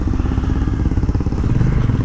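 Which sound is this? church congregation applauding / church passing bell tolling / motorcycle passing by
motorcycle passing by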